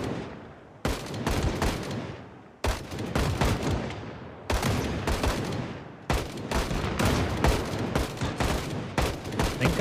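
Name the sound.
gunfire in the video game Project Zomboid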